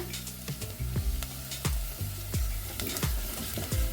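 Part-cooked onions with flour and curry powder sizzle steadily in a pan while a spoon scrapes through them in repeated, rhythmic strokes, close and fairly loud, with no voices.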